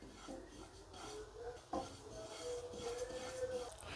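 Sesame seeds dry-roasting in a pan while a utensil stirs and scrapes them, quiet and close, with soft rasping and one sharp metallic knock partway through.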